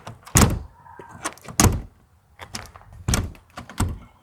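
The back door of an apartment building, with a pass-through handle and no lock, thumps and rattles in several loud, close bangs and knocks as it is pushed and swung, with no talking.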